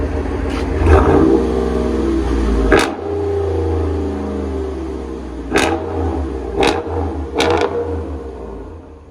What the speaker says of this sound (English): That's loud. I didn't expect it was that big of a muffler to be that loud.